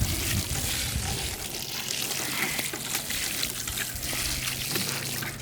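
Water poured and worked into weeded garden soil, a steady wet trickling and splashing that runs continuously and fairly loud from start to finish, with no talk.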